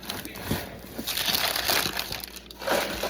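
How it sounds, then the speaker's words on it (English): Parchment paper crinkles and rustles while bread dough is lifted and dropped into a pan for baking, a few soft crackling bursts close by with no voices. "Move my parchment papers over, out of the way."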